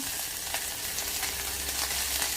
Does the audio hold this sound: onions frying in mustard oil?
yes